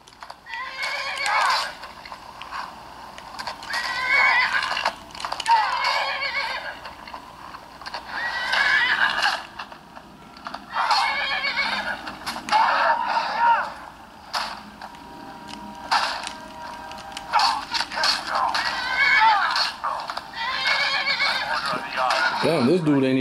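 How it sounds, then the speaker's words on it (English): A horse neighs repeatedly in a video game brawl, loud whinnies in bursts every few seconds alongside hoof clatter and creaking mechanical effects, with game voices in between. "See, my horse is fighting him."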